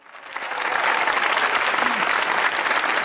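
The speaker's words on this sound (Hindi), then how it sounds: "सर के लिए जोरदार तालियां" Loud, dense applause from a studio audience on a Pakistani comedy talk show, rising quickly and holding steady with no one speaking over it.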